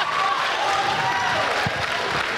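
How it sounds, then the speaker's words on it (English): Audience applause at a high school candidates forum: dense, steady clapping from a crowd filling the whole clip, with a faint tonal hum and some murmuring voices underneath. "Let's hear some applause for those who think I'm the most qualified candidate."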